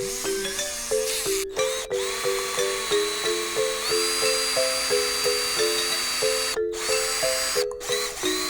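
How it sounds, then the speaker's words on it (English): An electric drill bores a hole into a wooden fishing lure, its motor whining in repeated short bursts with pitch stepping up and down as the trigger is squeezed and released, close and fairly loud with no talking. "I'm gonna drill a hole right here going in"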